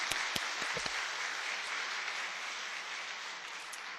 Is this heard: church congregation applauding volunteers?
yes